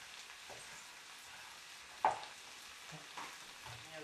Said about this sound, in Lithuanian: Jas taip pat supjaustome maždaug centimetro kubeliais. Dedame kepti.